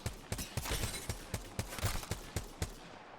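Scout rifle gunfire in Apex Legends, about a dozen evenly spaced sharp shots in quick succession, loud and close, with no talking.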